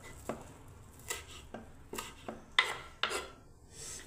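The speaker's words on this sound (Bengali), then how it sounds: "একটু ধনে পাতা, সেটাও আমি কেটে নিচ্ছি" Knife chopping coriander leaves on a board, about eight separate soft taps spaced unevenly and close by, with faint rubbing between the cuts.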